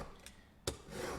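A single bevel broadhead is drawn across a sharpening stone. It makes a few faint, brief scraping strokes, with one sharper rasp near the middle.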